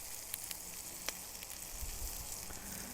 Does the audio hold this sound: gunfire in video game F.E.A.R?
no